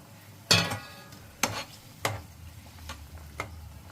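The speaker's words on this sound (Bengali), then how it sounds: "এক এক করে মাছ ভাজাগুলো দিয়ে দিলাম" Fried rohu fish pieces dropped one by one into simmering gravy, each landing as a sharp splash and sizzle, spaced a second or so apart over a quiet low bubbling.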